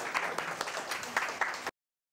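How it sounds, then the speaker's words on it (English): Students in a classroom clap for themselves, a short, fairly faint burst of scattered hand claps with a few louder individual claps, ending abruptly. "You can clap for yourself."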